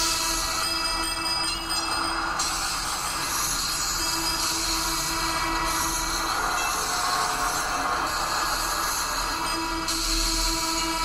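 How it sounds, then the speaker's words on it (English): An underground metro train on line 1 rolls steadily through a Cities in Motion city, a continuous dense rumble with rail noise and faint wheel squeal throughout and no talk. "let's take a view of the underground train, or the number 1 line"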